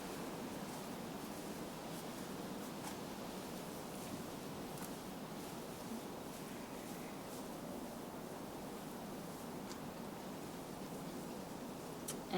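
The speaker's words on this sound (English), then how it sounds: "And then I'm going to water this in." Water poured over newly transplanted blueberries in a hugelkultur garden bed, a steady soft outdoor hiss that runs continuously without a break and without any voices.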